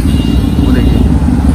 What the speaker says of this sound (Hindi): आइए जिसकी आवाज़ थी कावासाकी निंजा X2